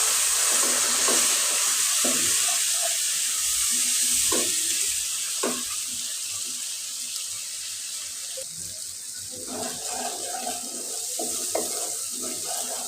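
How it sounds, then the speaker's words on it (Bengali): Cumin, ginger and spice paste fry in a pan for a home-cooked dish, giving a steady close sizzle with scattered scraping and stirring clicks over the whole stretch. "জিরা দিয়ে দিলাম দিয়ে মশলাটা আমি কষিয়ে দিলাম"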